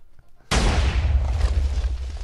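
In Minecraft, after a moment of near quiet, a sudden loud TNT blast erupts and rolls on as a deep, rumbling boom that slowly fades.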